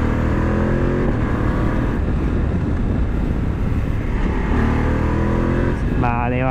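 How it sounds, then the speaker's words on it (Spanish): A Voge 900 DSX motorcycle engine running in enduro mode drones steadily and close, a constant throaty hum with a rising rev near the end. "con el modo enduro todavía se nota mucho más alegre este motor"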